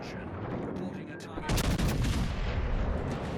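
Heavy naval guns fire high-explosive shells in a warship video game, a loud burst of blasts and booming gunfire that swells midway and rumbles on to the end.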